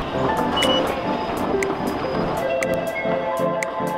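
Steady rumble of a moving above-ground train in Tokyo with rattling and clacking, periodic metallic clicks and faint squeals, continuous throughout with no talking.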